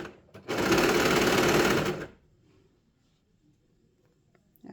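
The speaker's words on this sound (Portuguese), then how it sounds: "Vai esticando e costurando" A sewing machine runs in one quick burst of about one and a half seconds, stitching the hem of a dog sweater, then stops. A quiet pause follows before a faint new sound at the end.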